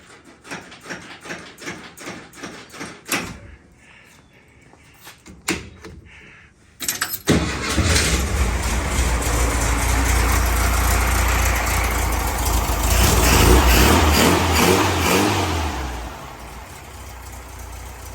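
A Meyers Manx VW dune buggy engine is cranked a few times, then catches and runs with a loud, steady air-cooled rumble. Key and handling clatter comes before the start, and the idle settles slightly toward the end.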